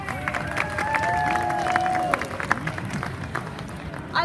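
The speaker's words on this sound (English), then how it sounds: "I love how everybody's just giving an applause to that." An audience at the Gammacon 2017 cosplay competition claps and cheers in a hall, a fairly loud, sustained round of applause with scattered whoops and a few sharper claps.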